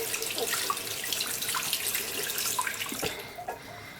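Cold water runs from a tap into a sink as makeup sponges are rinsed of soap, a steady splashing stream with squishing and dripping as they are squeezed under it, close and alone without talk.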